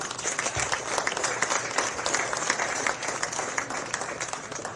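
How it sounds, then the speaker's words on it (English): Spectators at the North & South Amateur Championship golf tournament at Pinehurst No. 2 applaud in a dense, steady wash of clapping that lasts the whole stretch without a break. "Another round of applause, please."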